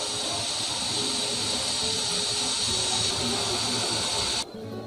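Frozen french fries frying in hot oil make a steady, loud broadband hiss and sizzle for several seconds, then drop off sharply as they are lifted out of the oil near the end.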